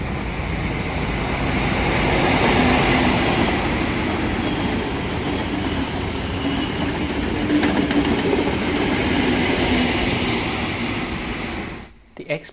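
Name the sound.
Dubbo XPT passenger train passing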